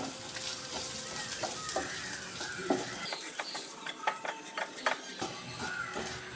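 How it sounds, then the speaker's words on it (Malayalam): Beef fry cooked Kerala toddy-shop style, seasoned with coriander powder, sizzles steadily in a pan while a spoon scrapes and stirs it in irregular clinks, the sizzle briefly dropping lower midway before resuming. "ഇത് ഇത്രയും ചേർത്ത് നന്നായിട്ട് ഒന്ന് ഇളക്കി കൊടുക്കാം"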